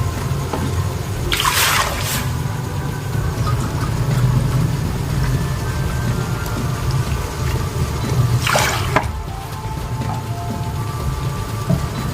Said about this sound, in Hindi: इसमें हम किलो पानी नहीं बल्कि किलो से कम पानी जो है वो ऐड करेंगे।